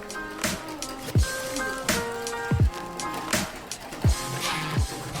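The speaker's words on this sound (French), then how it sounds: "Je verse ainsi mon liquide chaud, tout en remuant." Hot liquid for a lemon meringue tart filling pours in a steady splashing stream while being stirred, with soft tonal music running underneath.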